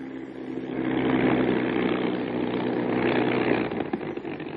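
A Bell P-39 Airacobra fighter's propeller engine idles with a steady low drone and a rough, rumbling throb, holding constant throughout with no voices.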